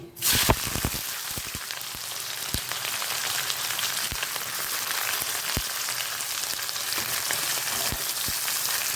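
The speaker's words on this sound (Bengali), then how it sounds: "এইবারে আমি দেব পেঁয়াজ কুচি" Chopped onion dropped into hot oil with cumin, bay leaf and whole garam masala, bursting into a loud dense hiss of sizzling with scattered crackles and pops that continue steadily.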